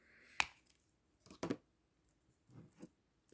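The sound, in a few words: cutting the plastic on the back of a flower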